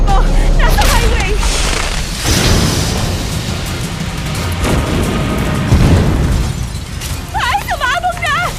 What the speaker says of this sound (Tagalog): Nahulog ang kotse at sumabog.